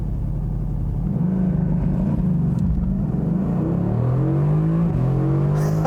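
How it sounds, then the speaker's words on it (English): A 2018 Mercedes-AMG GT C Roadster engine rumbles steadily at first, then revs up with a rising, throaty exhaust note, loud and nearby, with no talking. "although the exhaust sounds really good"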